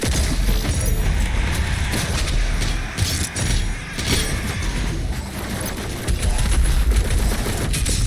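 Gunfire in the video game DOOM Eternal: a dense, chaotic barrage of rapid shots and blasts layered over game action, loud and continuous with little pause.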